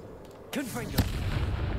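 Confringo fire spell cast in the Hogwarts Legacy video game, a sudden whooshing burst followed by a sharp explosive boom and rumbling tail, loud and close.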